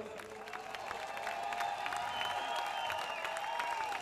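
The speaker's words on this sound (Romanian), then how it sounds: "Hai să aplaudăm!" Audience applause and cheering at an outdoor rock concert, the Mentor Rock Gathering held in memory of Adi Bărar, a steady dense wash of clapping that swells slightly and holds over a sustained musical tone.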